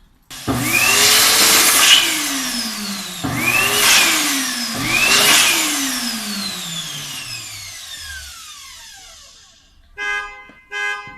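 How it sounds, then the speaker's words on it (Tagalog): An electric balloon pump inflates an 11-inch latex balloon: a loud, close motor whine runs with rising and falling squeaky tones for several seconds, then it cuts off, followed by two brief rubbery squeaks. "And then, regular balloon, 11 inch. Okay. And, electric pump machine."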